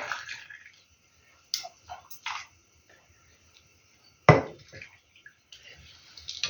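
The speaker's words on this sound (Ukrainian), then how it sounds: "Маринад готовий, іду заливати в банки." Marinade for pickled zucchini, made with sugar and salt, poured into glass jars in a home kitchen: short splashing pours and trickles separated by quiet gaps, with clinks of the jars and one sharp knock.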